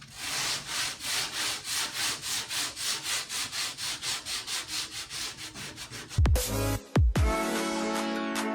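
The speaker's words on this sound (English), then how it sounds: "we're going to take some 320, we're going to scuff the green up, and then we'll wipe it down with the rag" Green paint gets scuffed with 320-grit sandpaper in quick, rhythmic back-and-forth strokes, each a close, raspy swish, about two per second, before the rubbing stops and a couple of sharp knocks and a ringing tone follow.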